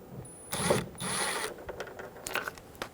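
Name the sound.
removing Phillips head screws from Toyota Tacoma mirror cover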